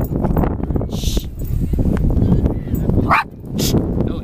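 A teacup Yorkie and an Italian greyhound bark in quick, yappy bursts at close range. A person speaks over them, and a sharp high yelp comes near the end.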